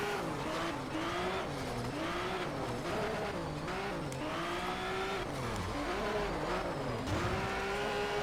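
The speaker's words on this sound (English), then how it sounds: "if you wanna practice drifting," A car drifts in the Need for Speed video game, its engine revving and wavering up and down in pitch while tires squeal continuously through long slides, loud and close with no talking.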